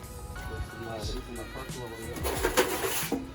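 Pigeons coo softly in a loft at a custom feeder shop in Houston, Texas, low rolling calls repeating close by while people talk over them.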